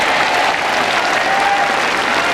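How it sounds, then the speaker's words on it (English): A huge crowd at the Ayr Northfield complex applauds during the 2004 World Bowls Championships men's singles final, a dense, loud, sustained wash of clapping with no talk. "there's a certain amount of relief about the applause here from this huge crowd at the Ayr Northfield complex"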